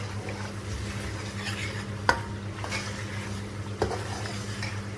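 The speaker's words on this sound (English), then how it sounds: "Just need to break the tomatoes and keep mixing it as well." Tomatoes being broken up and stirred in a pan for chicken liver curry: a soft continuous sizzle with scraping strokes and two sharp utensil knocks against the pan, no talking.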